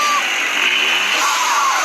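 A car's turbo blow-off valve vents in a continuous loud hiss and whoosh with a faint engine note underneath, steady for a couple of seconds and close by.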